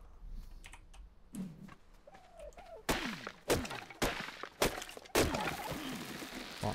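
Wood being chopped in the video game ARK Survival Evolved, a series of sharp thwacking hits with crunchy breaking debris, growing louder and denser toward the end, mixed with fainter soft game effects early on; no talking.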